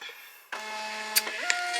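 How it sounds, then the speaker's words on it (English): A Dymo label printer feeds out a 4x6 shipping label with a steady mechanical whir and motor hum, broken by a couple of small clicks near the end, close and fairly quiet. "it just comes out of my Dymo printer like this"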